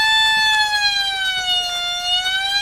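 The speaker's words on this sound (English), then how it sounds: "There's the siren." Electronic siren from a video board game sounds as a loud, steady wailing tone that slowly dips and holds, repeating without pause, close and alone.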